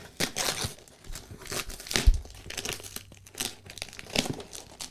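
Mailed package torn open by hand without scissors: loud, close bursts of crinkling and ripping plastic or paper, irregular and in several quick tugs.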